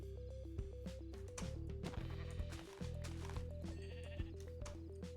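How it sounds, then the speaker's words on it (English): Sheep in the Minecraft video game bleat over a steady backdrop of in-game music, with several bleats scattered across the stretch at a moderate, fairly close level. "There's some sheep here."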